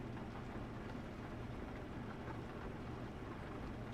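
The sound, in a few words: rain in video game Euro Truck Simulator 2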